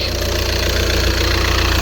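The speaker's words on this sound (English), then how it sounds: "whilst the engine's running" An Audi Q3 2.0 TDI Quattro diesel engine idles steadily at close range, giving a constant low, rhythmic clatter with no talking.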